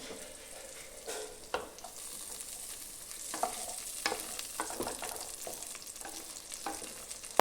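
Capsicum sizzles steadily in a pan for paneer butter masala. Soft, repeated spatula scrapes and taps sound over a constant frying hiss.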